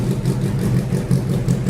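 A race car engine runs at a low, rough idle just after starting, loud and close, with a throbbing, uneven pulse and no voices.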